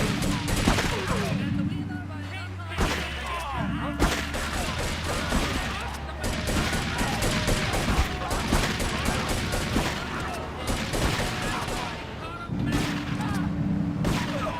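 Dense, rapid gunfire from a shotgun and other weapons in the Grand Theft Auto 3 Definitive Edition finale mission, loud and nearly continuous with short pauses, mixed with game engine noise and crashes.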